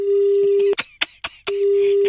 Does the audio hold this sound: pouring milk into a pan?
no